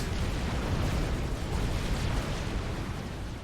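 A building is destroyed in the strategy game Supreme Commander, a dense roaring explosion with rumbling debris that holds for a few seconds and slowly fades, no talk.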